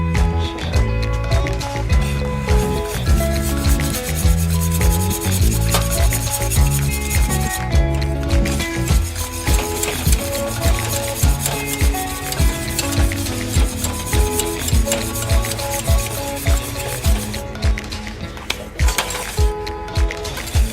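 Cheese sauce being whisked in a pot as cheese melts during Mexican cooking, a steady rhythmic scraping and stirring that runs continuously and fairly loud, with kitchen music or background tones underneath.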